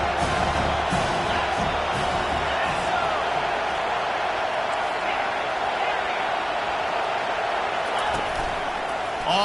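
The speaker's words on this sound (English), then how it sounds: "this crowd will blow out a vocal cord to help this defense" A packed football stadium crowd at a Florida State versus Penn State game roars loud and unbroken on a third down, a dense wall of cheering that never lets up.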